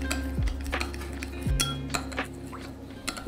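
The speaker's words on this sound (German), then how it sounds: "Das natürlich jetzt einmal gut verrühren." Paprika is stirred into oil with a spoon for a potato salad. Close metal clinks and scrapes against the bowl come in a few distinct taps and swirling strokes. There is no talking.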